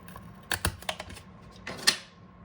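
Removable tape is pulled and handled during card making, a few quiet crinkly ticks and a brief tearing rasp close by in an otherwise quiet room.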